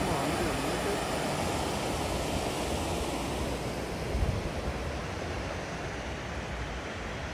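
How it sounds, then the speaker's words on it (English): A park waterfall rushes in a steady, broad roar, near and constant, with a slight thump partway through. "Waterfalls. Yes."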